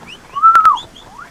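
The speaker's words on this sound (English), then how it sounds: "I shall whistle thousands of times." Whistle from the Red Dead Redemption video game, one clear rising-then-falling tone lasting under a second, loud and close with no talk.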